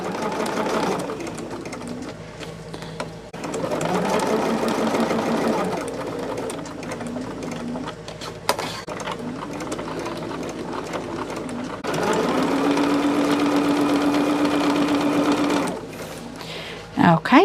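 Sewing machine stitching pinned quilt pieces together, running in a steady whir through most of the stretch with a brief pause, while someone talks over it.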